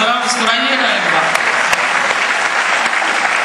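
Dense, steady applause from an audience at a devotional Hanuman bhakti stage program, sustained and close throughout with no pauses.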